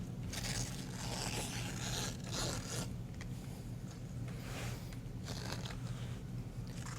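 Excess canvas being cut away while stretching a canvas, close, faint scraping and snipping in uneven strokes with short crunchy bursts.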